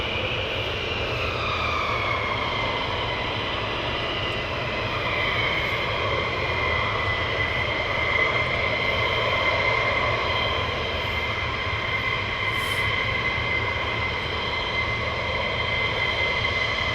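Fixed-wing aircraft taxiing out at RAF Lakenheath, its jet engine a steady, continuous whine and rumble held at a constant level throughout, with no voices present.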